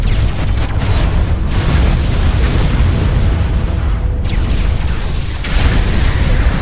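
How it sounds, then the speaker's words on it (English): Pulse cannons fire in the space strategy game Vega Conflict, a dense, continuous barrage of bursting booms and crackling blasts that stays loud and steady, broken by a brief dip before resuming. "I would say the pulse cannon does good work."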